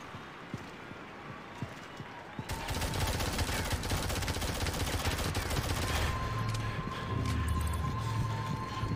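Rapid, sustained gunfire from the Skull Blaster 3000 in the shooter Shadowgun Legends, a dense continuous rattle starting a few seconds in after sparse footsteps and clicks, loud and close, running for several seconds.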